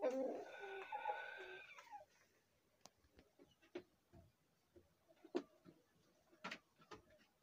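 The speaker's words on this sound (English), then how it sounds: "Those are my chickens." Chickens near a home egg-hatching setup cluck and call, a drawn-out rooster-like crow at the start, then scattered short clucks and faint coos at a moderate distance.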